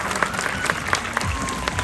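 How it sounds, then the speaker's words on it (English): Audience at a sea lion show clapping for a trainer, a dense, steady round of applause with scattered louder claps, crowd murmur underneath. "Give a nice round of applause to Kaylee."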